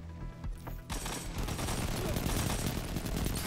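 Sustained auto rifle fire from the Ether Doctor in Destiny 2 PvP, a dense rapid burst that starts just under a second in after a brief quieter lead and continues loud and steady to the end.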